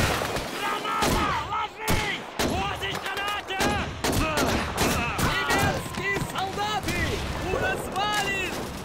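A self-propelled gun fires during a battle in Call of Duty 2, its heavy blasts mixing with a dense rattle of rifle and machine-gun shots as sharp repeated bangs over several seconds, while someone talks in between.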